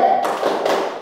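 Classroom hand clapping in a short burst of quick, close taps with no voices.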